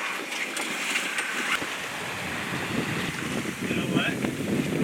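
A sailboat motor sails offshore, its engine a low steady drone under broad wind rush and the wash of water along the hull, constant and close with no clear voices.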